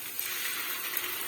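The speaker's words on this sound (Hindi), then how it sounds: "तो मैं यहाँ पे जी डालूंगी अदरक लहसुन का पेस्ट।" Ginger-garlic paste sizzles in a hot pan, a steady, dense hiss of frying that holds at an even level throughout, with no voices.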